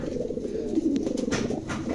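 A pair of Bukhara pigeons coos close by, with soft low rolling calls running steadily through the moment, no talking over them.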